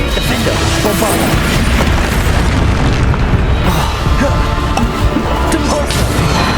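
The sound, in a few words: explosion from Bombarda spell in Hogwarts Legacy video game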